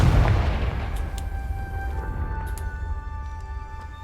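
A Confringo blasting curse detonates in Hogwarts Legacy: a loud, booming explosion at the start that decays into a long ringing, tonal tail and fading rumble.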